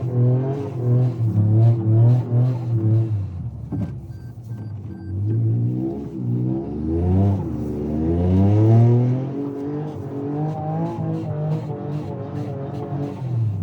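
A Toyota GR Yaris engine revs repeatedly while the car drives on snow, loud and close, with rising and falling pitch sweeps through gear changes and steady throttle.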